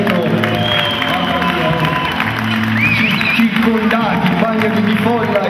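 A warm-up round of applause from a crowd at an Italian university researchers' night event in Tuscany: dense, continuous clapping and cheering, loud and close, with a voice speaking over it.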